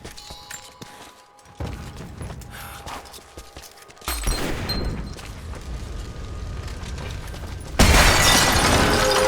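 In-game grenade blasts and combat noise from Rise of the Tomb Raider, with loud broadband bursts at intervals and the biggest, loudest eruption arriving near the end.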